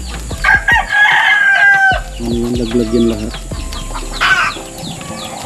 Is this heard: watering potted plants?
no